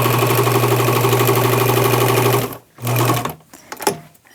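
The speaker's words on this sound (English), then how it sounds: "I'm using a zigzag, and you really need a flat table, flat work surface on your sewing machine to do this" A sewing machine runs a zigzag stitch on a dress for a few steady seconds, its fast mechanical whirr loud and close, then stops abruptly and is followed by a short burst and small handling clicks.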